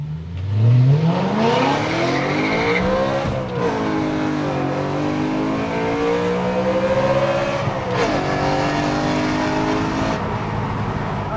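A manual BMW M3 engine revs hard past 7000 rpm and climbs to a high, screaming pitch, then holds and wavers at high revs, loud and close, with no talking.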